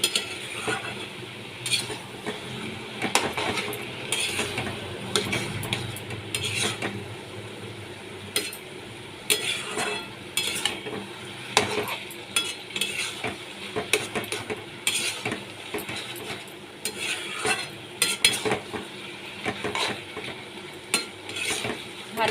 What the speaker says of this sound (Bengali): গরম মশলা দিলে দিয়েও আমি এবার ভালো করে নেড়ে নিচ্ছি